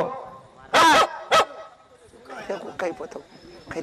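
A dog gives two loud, close barks in quick succession, followed by quieter voices talking in the background.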